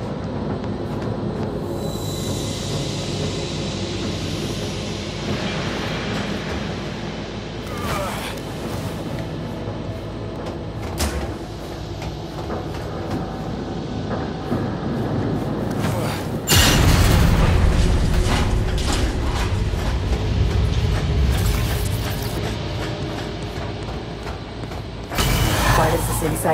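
Metro train in Cyberpunk 2077 rumbles loudly through the scene, a dense mechanical roar with rattling and booming surges that swell midway and again near the end.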